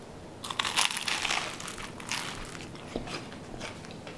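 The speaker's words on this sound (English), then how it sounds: "there was nothing left to do but bite into one of these to see, and more importantly hear, how we did" A loud, close crunch as teeth break through the crispy crust of a fried cronut, followed by softer crackling chews that fade over a few seconds.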